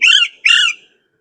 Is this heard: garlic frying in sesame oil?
no